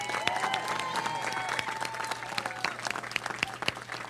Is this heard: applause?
yes